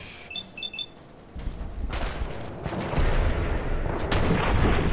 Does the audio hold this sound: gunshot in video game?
yes